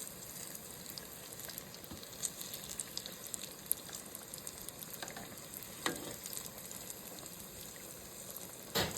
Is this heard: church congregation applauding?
no